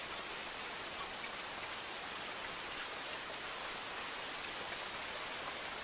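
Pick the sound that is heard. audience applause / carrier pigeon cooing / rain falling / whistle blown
rain falling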